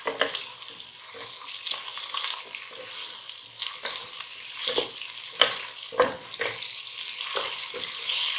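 Tomatoes, ginger and garlic fry in a pan for shahi daal paneer, a continuous close sizzle broken by irregular scrapes and clatters of stirring, with no talk.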